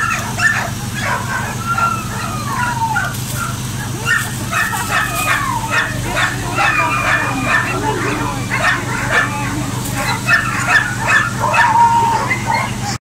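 Several dogs yip, bark and whimper in close, excited bursts throughout, mixed with people talking in the background.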